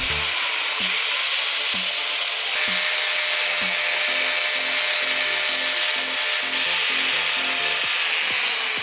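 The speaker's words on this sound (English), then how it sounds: "in our case we use the grinder, and just grind a little bit on top of it" A power grinder runs steadily, loud and close, roughing up a fiberglass surface so Bondo filler will bond, a sustained high whine with grinding texture and small rhythmic bumps as the disc works across the spot, no talking.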